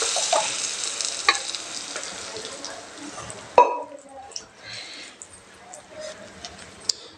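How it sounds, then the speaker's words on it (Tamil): Boiled dal and spinach poured into a pan of frying onions, with a steady sizzle and stirring that drops off after a sharp clatter midway, leaving quieter bubbling and scraping while someone talks. "இப்போ வேக வச்ச பருப்பு கீரையும் ஊற்றிடலாங்க."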